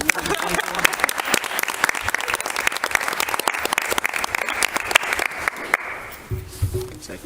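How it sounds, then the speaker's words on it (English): A school committee meeting audience breaks into sustained, dense applause, loud and close, that runs for several seconds before cutting off, followed by a brief voice. "That deserves a round of applause, Mr. Vick"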